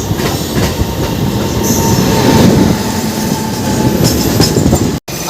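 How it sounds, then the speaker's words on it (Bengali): The Azad Express and Coromandel Express run side by side, close and loud, with rolling rail rumble, rhythmic wheel clatter and bursts of wheel squeal, briefly cutting out near the end. "আজাদ এক্সপ্রেস আর করমণ্ডল এক্সপ্রেস একটা প্যারালাল রেস মারছে"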